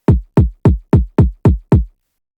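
Seven identical punchy Cymatics sample-pack kick drum hits repeat at an even, quick pace, each a deep thump with a short decay, loud and dry with no other sounds.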